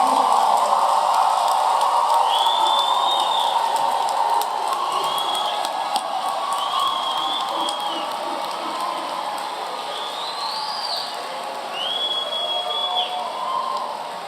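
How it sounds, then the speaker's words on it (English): A large crowd at a community college commencement applauds and cheers steadily throughout, with scattered whoops and high shouts rising above the sustained clapping. "Please join me in giving another round of applause"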